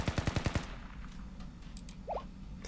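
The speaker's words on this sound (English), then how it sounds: "Was that gunfire?" A quick burst of about six rapid gunshots from an automatic weapon in Blue Archive, loud and close, then fading into quiet room tone.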